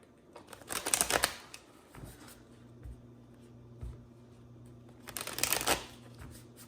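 Tarot cards being shuffled in two brisk bursts, a riffle near the start and another toward the end, with quiet handling between; close and fairly soft, with no talking.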